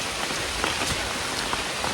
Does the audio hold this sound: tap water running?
no